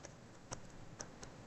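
Keys on a computer keyboard tap as Python code is typed, a handful of sparse, crisp clicks spaced about half a second apart over faint room hiss; quiet and close, with no talking.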